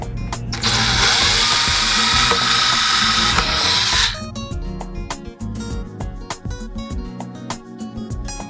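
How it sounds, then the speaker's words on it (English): A power drill whines loudly for about four seconds while boring pilot holes in MDF for a subwoofer kit, then stops, followed by lighter handling clicks and knocks up close. "go ahead and drill out pilot holes for the screws. Make them a lot easier to get into the MDF."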